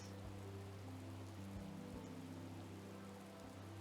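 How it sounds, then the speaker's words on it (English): Steady video game rain hiss fills the scene in The Legend of Zelda: Breath of the Wild, a continuous soft wash of falling drops with a low hum underneath, quiet and unbroken throughout. "because right now it's raining all the time"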